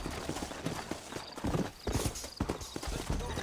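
Rapid clip-clop of galloping horse hooves in Red Dead Redemption on PS5, mixed with game sounds and a voice talking in Portuguese over it.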